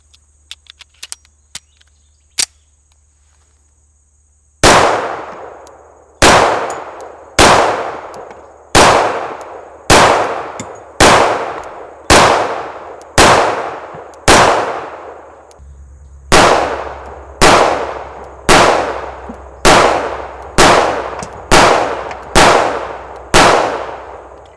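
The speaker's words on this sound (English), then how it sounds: "this is going to be my first shots with this Kimber Warrior" Shots from a Kimber Warrior .45 ACP 1911 pistol ring out in a steady string of about fourteen loud, sharp reports with ringing decay, following a few faint clicks and a short quiet lead-in.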